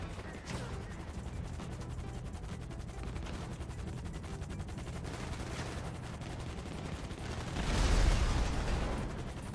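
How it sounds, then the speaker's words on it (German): Gunfire in GTA 5 Online, rapid crackling bursts of automatic fire repeating through the scene, building to a louder heavy blast near the end, with faint voices underneath. "die schießen auf mich"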